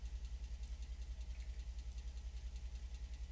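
A truck engine idles steadily in the driving game Alaskan Road Truckers, a deep, even low rumble with a regular throbbing pulse, close and continuous throughout.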